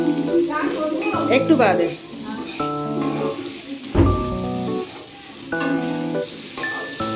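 Spices are stirred into pointed gourd curry frying in a pan at home, with a steady sizzle and scraping under background music and a brief spoken phrase.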